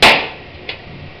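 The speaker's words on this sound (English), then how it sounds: "I'm going to tap it with the hammer 2 to 3 times" A hammer tapping a pinewood derby axle, one sharp, loud metallic strike that rings briefly, followed by a much fainter second tap.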